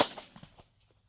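A Hornady 9x18 Makarov pistol round fired over a chronograph outdoors: one sharp report right at the start, then a short fading echo into quiet.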